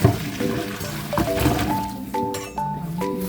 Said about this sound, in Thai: เทน้ำร้อนออก